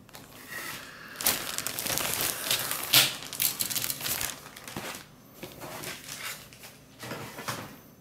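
A plastic bag holding several sprues from a Zvezda 1/35 BMP-2D model kit crinkles and rustles while being unpacked, in irregular close bursts with brief quieter gaps.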